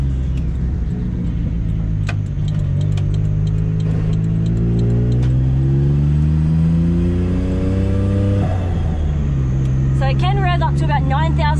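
The small three-cylinder turbo engine of a Daihatsu Mira L200S kei car revs steadily and rises in pitch, then drops as a quick blow-off valve whoosh and flutter sounds near the end, close by.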